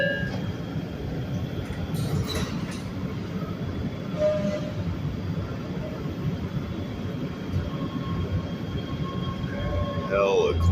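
Los Angeles Metro Red Line subway train running, a steady loud broadband rumble throughout with faint intermittent squeals and metallic tones above it.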